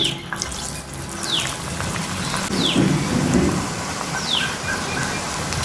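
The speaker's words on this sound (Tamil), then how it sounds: "இப்போ இதை நம்ம எண்ணெயில் பொரித்து எடுக்க போகிறோம்." Sweet potato donut balls deep-fry in hot oil with a steady, rain-like crackling sizzle, broken by a few faint scraping sounds and no talking.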